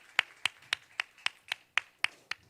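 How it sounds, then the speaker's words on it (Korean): Nine sharp, evenly spaced claps ring out in a steady rhythm from a church congregation during a Sunday service, fairly faint and slightly distant, with no voices. "우리 박수로 한번 격려하겠습니다"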